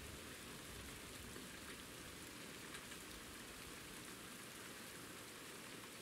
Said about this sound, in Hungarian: Na nézd meg, aztán elkezdett cseperegni az eső.